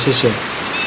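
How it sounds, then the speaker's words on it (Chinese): Steady rain hisses throughout at an apartment building in Taiwan, a broad continuous wash with a brief spoken word near the start. "今天我的声音有可能不知道会被雨声盖过去哈"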